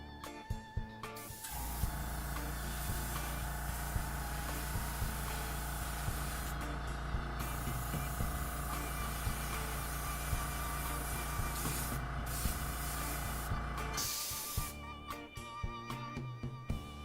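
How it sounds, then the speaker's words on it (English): Mobius airbrush spraying paint, a steady close hiss of compressed air that runs for about twelve seconds, with short clicks and handling noises at the start and end. "this is the new airbrush, the MOBIUS that they sent me"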